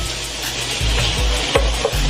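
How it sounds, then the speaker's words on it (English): Bacon sizzles and crackles steadily in a hot pan, with a low hum underneath and a couple of brief clicks as it is stirred. "So we just rendering this bacon down"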